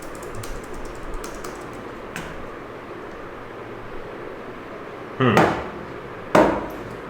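Sporadic computer keyboard typing, a few soft scattered taps followed by two sharp, loud clacks near the end, close by with no talking over them.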